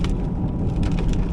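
Rain falls steadily in a forest during timber forwarding work, a dense, even hiss with soft patters, close and continuous through the short stretch.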